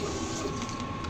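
An inkjet printer running a head-cleaning cycle gives off a steady mechanical whir and hum with a faint tonal whine, unbroken throughout and fairly loud, with no voices.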